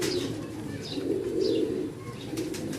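Well-bred pigeons in a fancier's loft coo in low, rolling, continuous murmurs close by, with a few faint chirps and rustles of wings above them.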